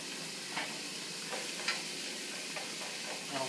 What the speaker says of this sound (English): we're adding the mirepoix in. This is carrot, celery, onion, and